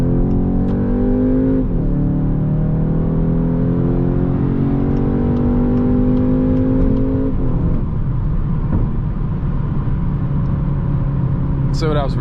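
Škoda Octavia RS 2021 with a wet-clutch dual-clutch automatic, driven at night, accelerating hard at full throttle: loud, steady engine roar with rising pitch through the gears and a brief shift dip, heard from inside the cabin.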